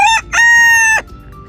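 A Silkie rooster crows up close and loud, one short clipped note followed by a longer drawn-out crow, then quiet.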